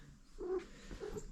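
A house cat gives a short, close cry that rises and then falls, followed by a second softer call, heard alone in a quiet indoor room.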